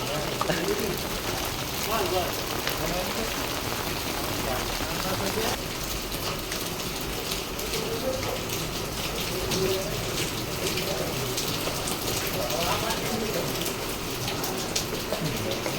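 Steady rain falls outdoors during a Ganesh festival, a constant hiss of drops on surfaces with indistinct voices and crowd activity murmuring underneath throughout.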